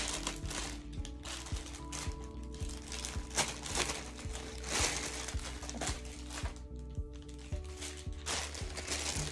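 Plastic is stuffed into a bottle for bottle bricking, producing close, continuous crinkling and crackling with rapid clicking bursts and brief pauses.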